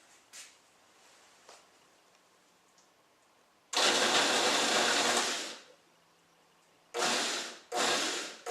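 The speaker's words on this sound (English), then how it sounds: "And now we're going to put them in through the processor." A food processor chopping vegetables for jalapeno corn chowder, with three loud whirring bursts, one long and then two short pulses, separated by quiet pauses.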